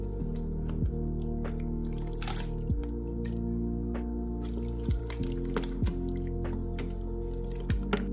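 Butter chicken is stirred with chili powder, paprika, garam masala, cumin, turmeric, salt and fenugreek leaf, giving a run of close, wet squelches and soft squishes at an uneven pace, with no voices.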